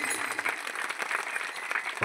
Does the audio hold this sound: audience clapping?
yes